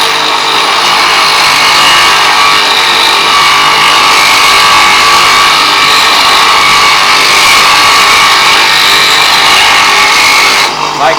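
Bench grinder wheel grinding the 30-degree bevel of a plane blade, a loud steady broadband hiss and whine running nearly unbroken, with a brief change near the end as the blade shifts.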